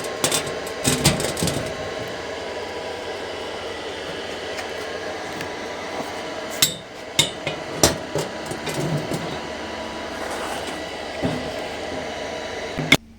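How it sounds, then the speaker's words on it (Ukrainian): Arc welding a second steel post to rebar for vineyard trellis posts: a close, sustained crackling hiss with sharp clicks and pops scattered throughout, with no talking. "Зараз другу приваримо."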